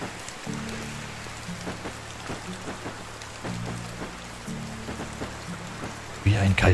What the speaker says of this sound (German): Und wieder nur am Regnen hier.